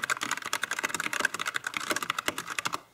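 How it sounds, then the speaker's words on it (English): Rapid, close typing on a Qeeke CR840 mechanical keyboard with brown switches and a touchscreen display, a dense run of crisp keystrokes that fades out at the end. "it is quite easy to get used to the layout and start typing along"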